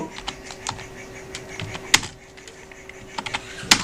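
Rapid keystrokes on a computer keyboard while a search is typed, a close, clicky run of taps with a few sharper key hits and short pauses between bursts.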